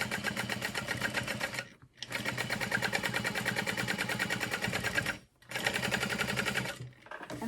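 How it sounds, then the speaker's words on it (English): Sewing machine topstitching a pocket in place on a handmade bowler bag, running in steady rapid bursts with two brief pauses, close and loud with no talking over it. "So I'm just gonna top stitch this in place."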